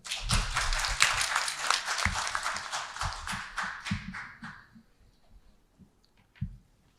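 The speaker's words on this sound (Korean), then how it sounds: "큰 박수로 맞이해 주시기 바랍니다" Applause from a seminar audience welcoming a professor to the podium, dense clapping for about four and a half seconds before thinning out into a few scattered claps.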